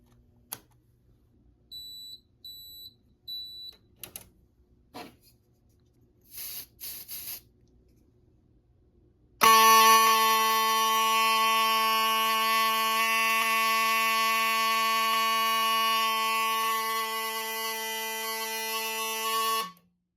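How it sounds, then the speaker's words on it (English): Fire-Lite Miniscan 112 fire alarm horn running on battery power during a smoke detector test, a loud continuous buzzing horn that starts abruptly midway after faint clicks and handling noises, then holds steady until it cuts off. "we'll test the system on batteries, and that horn should sound a lot better"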